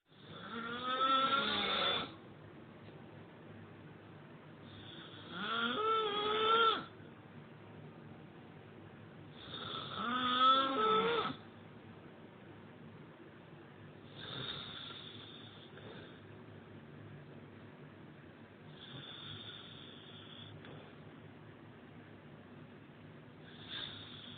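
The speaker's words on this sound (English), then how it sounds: "He is ripping the paint off the fucking wall. Girl. All right. With the snoring." A man snores loudly in about five rasping, rattling breaths spaced roughly every four to five seconds, the first three strongest and the later ones fading, close and alone.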